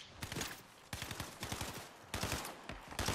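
Rapid automatic gunfire in Fortnite, continuous rattling bursts at a fairly quiet, distant level with brief gaps between strings of shots.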